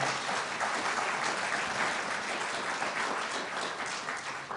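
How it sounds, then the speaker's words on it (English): Sustained applause from a crowd at the University of Richmond, dense and even, tapering slightly toward the end. "Let's give a round of applause to one of the most remarkable women we've ever known."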